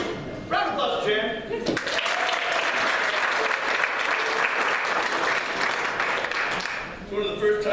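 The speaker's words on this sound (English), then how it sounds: "Round of applause, Jan." A live stage show audience in a hotel bursts into loud applause after a brief spoken line, the dense clapping lasting several seconds before tapering off as a voice resumes talking.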